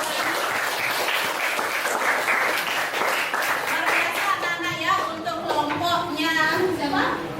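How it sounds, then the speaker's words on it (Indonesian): A classroom of students applauds a classmate after a presentation, with sustained clapping from many hands and lively voices chattering over it throughout. "beri dulu tepuk tangan untuk temannya yang sudah"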